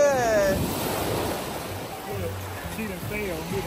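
Ocean waves surging on a Bimini beach, a steady loud wash of surf with wind noise on the microphone, while voices talk over the water.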